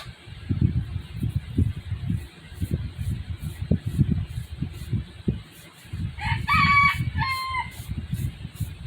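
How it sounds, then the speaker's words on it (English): Roosters crowing repeatedly in the distance over a steady low rumbling background, with the calls rising near the end. "the roosters are going to be vocal like they always are."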